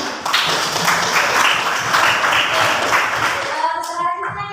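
Classroom applause from pupils during a microteaching lesson on the Ulul Azmi prophets, a dense burst of clapping that fades out toward the end.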